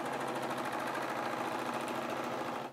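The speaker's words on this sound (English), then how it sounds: "I'm going to serge a little bit and show you an issue that sometimes happens" A Husqvarna Viking S-21 serger runs at speed with a loud, steady, rapid mechanical chatter close by, then stops abruptly at the end.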